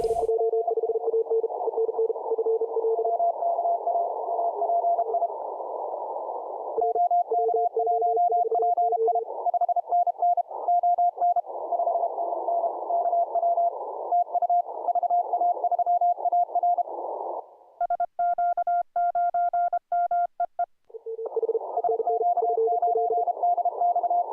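Steady Morse code tones beep in rapid dot-dash rhythm over a crowded 10-metre amateur radio band during the ARRL DX CW Contest 2024, several overlapping signals at different pitches with hiss, no talking.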